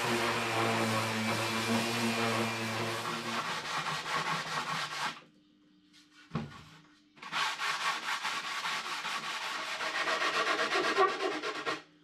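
80-grit sandpaper on a block sands a wooden boat foil in close, rhythmic rasping strokes. A short pause with a single knock comes midway before steady sanding resumes.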